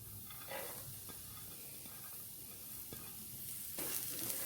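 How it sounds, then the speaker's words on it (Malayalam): Chopped spinach stems sautéed and stirred into spice paste for spinach thoran, a soft continuous fry with intermittent stirring scrapes, fairly quiet and without talk. "ഇതിലേക്ക് നമ്മൾ അരിഞ്ഞു വെച്ചിരുന്ന ചീരയിലയുടെ തണ്ട് ആദ്യം നമുക്ക് ഇട്ട് കൊടുക്കാം"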